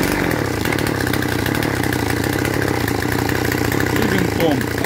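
Chainsaw engine running at idle during carburetor adjustment, a loud, steady rapid putter close by throughout, with a person talking over it.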